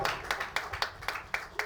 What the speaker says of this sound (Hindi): आप जोरदार तालियां बजाइएगा इनके लिए